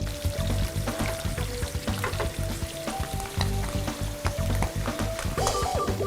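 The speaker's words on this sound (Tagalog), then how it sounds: "Igigisa muna ang mushroom." Mushrooms sauté in a hot pan at a Laguna restaurant, sizzling loudly and steadily, with the rhythmic scrape and clatter of stirring, close up and with no talking.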